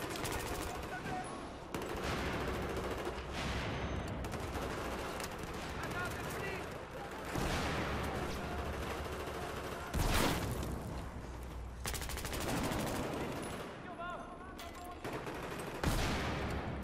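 Gunfire in the video game Battlefield 4 multiplayer, sustained bursts of rapid automatic shots and heavy blasts throughout, loud and dense, with people talking over it.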